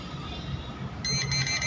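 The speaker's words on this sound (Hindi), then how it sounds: "जैसे वहाँ पर आया जहाँ पर कोई चीज़ है वो बजर बजना शुरू हो गई इसकी" A small gold metal detector's buzzer starts sounding over a metal object, a bright pulsing electronic beep that kicks in suddenly and repeats rhythmically, fairly loud over a low background hum.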